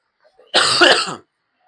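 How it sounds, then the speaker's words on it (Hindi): A single short, harsh cough, close and loud, in an otherwise quiet moment. "हो जाती है खांसी।"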